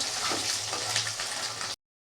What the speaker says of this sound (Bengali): ডিমটা বেশ লাল করে ভেজে নেব